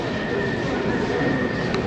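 A St Petersburg metro train rumbles through a station in a steady, loud, continuous roar of wheels and motors with a faint high whine, crowd hubbub mixed in.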